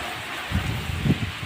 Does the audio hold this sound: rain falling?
yes